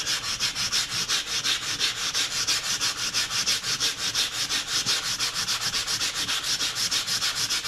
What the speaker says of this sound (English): So let me just go over it here very lightly with sandpaper.